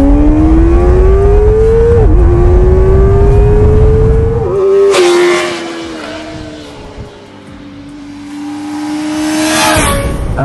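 A Kawasaki Ninja ZX-4RR sport bike's small four-cylinder engine screams loud and high-pitched, holding a sustained rev with small dips, then dropping off before climbing again near the end.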